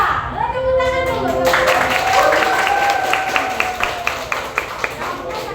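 Applause and clapping from a class of students in a classroom lesson, a steady wash of many hands with children's voices over it, some louder single claps standing out near the end.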